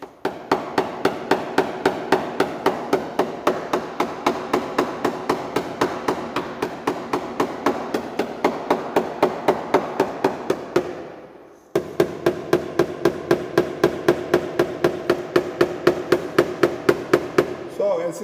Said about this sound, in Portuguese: Essa pontinha do martelo aqui, ó.